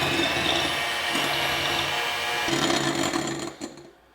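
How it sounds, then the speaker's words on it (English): Egg whites whisked by hand in a medium to large bowl until foamy, a steady, busy scratchy clatter of the whisk against the bowl running continuously and fairly close, tapering off at the end. "I'm going to start to whisk these up till it's nice and foamy"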